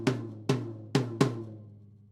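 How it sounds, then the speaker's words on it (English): Four quick drum strokes on a small tom make up a two-beat fill, each hit sharp and close with a ringing decay that fades out at the end. "So that 2-beat fill sounds like this."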